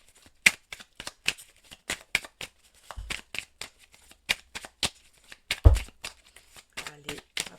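Oracle cards are shuffled by hand in a quick series of crisp riffling flicks and snaps in an uneven rhythm, close and fairly soft, with a couple of dull thumps.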